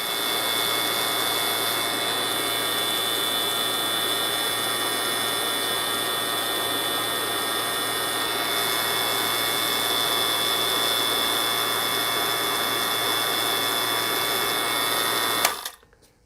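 A vacuum pump evacuating refrigeration tubing in a fridge and AC workshop runs with a loud, steady mechanical drone and whine for about fifteen seconds, then cuts off abruptly.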